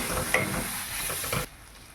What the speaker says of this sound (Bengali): এবার এটাকে খুলে দেব, দিয়ে একটু নেড়ে চেড়ে নেব।